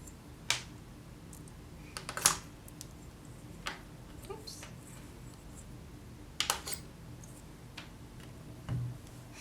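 A blade trims the edges of a rolled polymer clay flower cane, giving a few scattered sharp ticks and taps spread out with quiet gaps between them.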